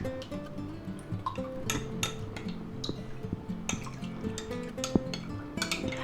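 A spoon stirs a water and cornstarch mixture with brown sugar in a pot or bowl, giving soft scraping and light clinks against the sides, mostly faint and close with occasional sharper taps.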